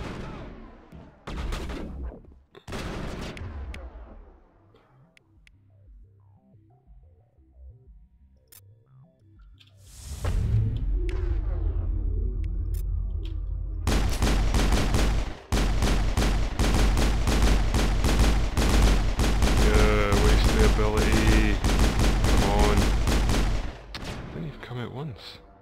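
Mass Effect gunfire during a firefight: scattered sharp shots early on, then a loud, dense stretch of rapid, continuous firing and impacts that runs almost to the end, mixed with other game sounds.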